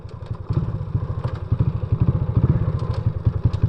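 A Kawasaki Ninja 400 motorcycle engine idles close by with a loud, rapid, uneven chugging pulse and light mechanical clatter throughout.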